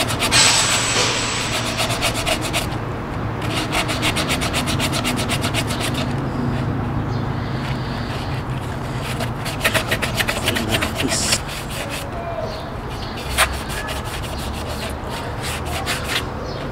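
Scuffing a BMW E90 intake boot by hand before painting, with close, rapid rhythmic rubbing and rasping strokes that run in bursts with short pauses.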